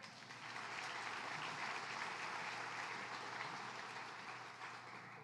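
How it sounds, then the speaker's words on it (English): Faint, distant audience applause from a city and county gathering, a steady patter of clapping that holds evenly for several seconds. "give them a round of applause"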